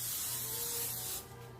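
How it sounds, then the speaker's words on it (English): A steady aerosol hiss of non-stick cooking spray onto parchment, close and continuous for over a second, then cutting off abruptly. "I'm going to spray it with non-stick spray."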